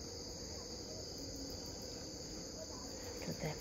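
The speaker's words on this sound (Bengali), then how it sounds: "রাত্রিবেলা দেখছো কেমন ঝিঝি পোকার ডাক" Crickets chirp at night in a dark, open rural spot, a dense, unbroken high trill holding steady throughout, alone without speech.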